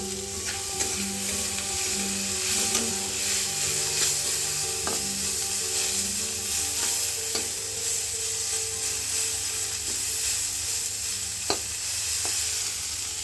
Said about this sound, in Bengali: সমস্ত সবজি ভালো করে ভাজা হয়ে গেছে